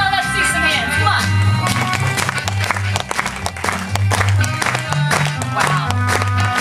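A crowd at a live swing music festival concert claps loudly and steadily, with cheering mixed in over the band's low accompaniment, while a voice calls out above the noise.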